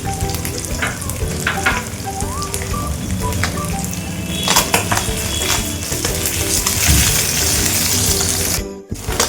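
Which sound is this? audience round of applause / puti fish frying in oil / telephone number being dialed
puti fish frying in oil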